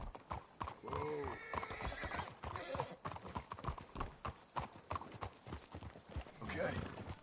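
Horses in the video game Red Dead Redemption 2 clip-clop steadily on the ground, with a whinny early on, while voices talk over the hoofbeats.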